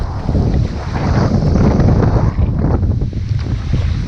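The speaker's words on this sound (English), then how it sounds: "This wind is terrible." Strong wind buffets the microphone on a kayak fishing trip for smallmouth bass, a loud, continuous roar with gusty surges and no voices.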